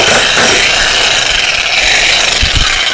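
A used Japanese rotary hammer drill runs under test, giving a loud, steady broadband grinding and rattling roar with a few heavier thuds near the end, no talk over it.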